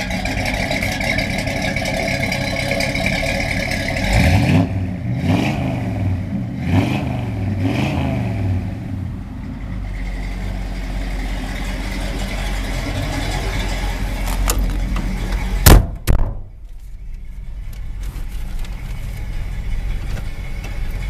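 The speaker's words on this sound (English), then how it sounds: "Let me start her up so you can hear how good this thing runs." A 1966 Ford F100 restomod pickup truck engine cranks and catches, revving a few times in quick bursts before settling into a steady, close, loud idle, with a sharp blip near the end.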